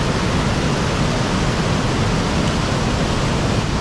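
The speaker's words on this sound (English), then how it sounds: "pretty heavy duty rapids." Heavy river rapids at Sauble Falls, a steady, loud, full-band rush of churning water that holds constant throughout with no pauses and no voices.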